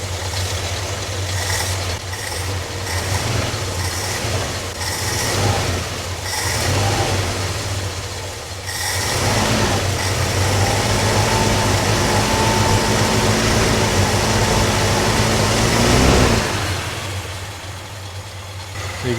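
A 1969 Ford F100 truck's long-dormant engine runs steadily at a rough, loud idle with low rumbling throughout, rising in a few brief revs near the middle and end, with no talking.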